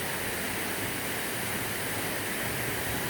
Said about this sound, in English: It's a double cascading waterfall.